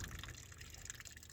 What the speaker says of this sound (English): So we're gonna let that water drain out.